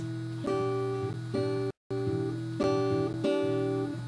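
Slow fingerpicked guitar pattern, plucked notes falling in an even, unhurried rhythm with a brief silent gap midway, no talking.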